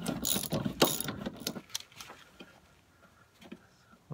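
A ratchet tightening an 18 mm body mount bolt on a Chevy truck: a quick run of loud, close clicking that slows and fades into sparse, faint clicks.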